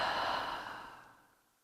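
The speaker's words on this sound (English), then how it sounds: "Exhale through the mouth." A single long exhale through the mouth during a yoga flow, breathy and close, starting strong and fading gradually to quiet.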